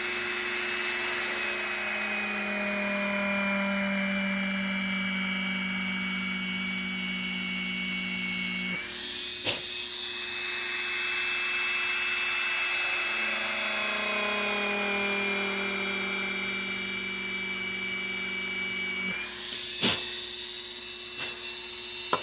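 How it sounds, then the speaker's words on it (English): A small high-pitched rotary tool whines steadily while drilling into the headrest spots of a 1/6 scale time machine model, its pitch dropping and rising as it bites in, with brief breaks between passes. "I'm going to drill into the headrest spots that are marked here."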